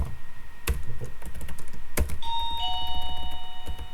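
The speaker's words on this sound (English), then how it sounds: "Oh no, it's the doorbell." Electronic doorbell chimes ring out twice with clear ringing tones over fast computer keyboard typing that clicks steadily throughout.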